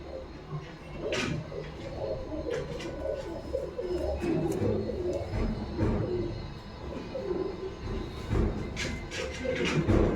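Pigeons coo and rustle inside a loft, a continuous layer of soft throaty calls and wing or foot noises, fairly close and moderately quiet, with occasional sharper knocks.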